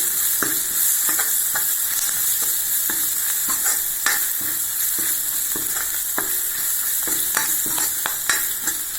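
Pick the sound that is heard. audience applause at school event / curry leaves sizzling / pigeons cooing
curry leaves sizzling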